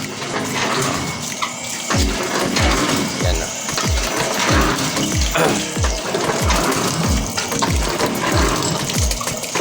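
Water gushing steadily from an irrigation pipe at a farm watering site at night, a continuous loud rushing with rhythmic low pulsing surges throughout.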